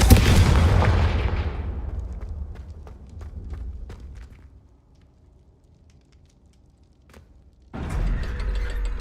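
A Confringo spell blast in Hogwarts Legacy, a loud booming burst that fades into a quiet tail with faint clicks, followed by another heavy blast at the end.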